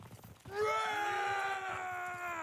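Soldiers in Mount & Blade II: Bannerlord raise a loud, sustained shout that swells in after a brief murmur of voices and holds steady, a chorus of strained yelling close by.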